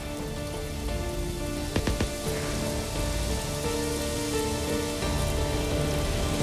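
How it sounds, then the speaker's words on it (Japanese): Steady rain falls in the video game Days Gone, a dense, even hiss of drops spattering on surfaces throughout, with a few brief sharper taps near the middle and no voices. "雨降ってきたな。"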